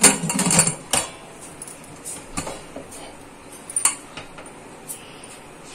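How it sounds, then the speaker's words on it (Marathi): A metal pressure cooker lid is fitted onto the cooker, which holds a steaming container over a little water: a few sharp metallic clinks and clanks, loudest at the start, then scattered lighter taps in a quiet kitchen. "आता हे बघा झाकण लावते कुकरचं"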